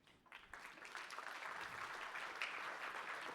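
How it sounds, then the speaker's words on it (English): An audience at a hydrogen start-up forum breaks into applause, a dense, steady wash of clapping that swells after a brief start and holds at moderate loudness, heard from within the hall. "give a huge round of applause for Guillermo"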